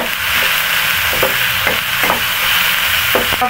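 Tomatoes sauté in a pan for a fish afritada with milkfish, a steady loud sizzle broken by repeated scraping stirs of a utensil.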